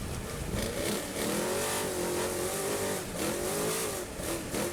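An off-road race truck accelerates at full throttle while qualifying at the Baja 500, a distant, fairly faint engine roar rising and falling in pitch as it revs through the gears.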